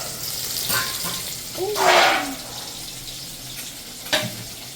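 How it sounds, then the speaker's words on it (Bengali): Fish frying in a home kitchen pan gives a soft, continuous sizzle, with a louder hissing surge midway and a few short clatters. "মাছ ভাজা বসিয়ে দিয়েছি আমি"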